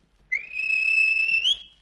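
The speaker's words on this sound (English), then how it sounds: "the guard whistled" A railway guard at a station blows a single sustained shrill whistle lasting over a second, loud and clear with a slight rise at the end, alone in a quiet background.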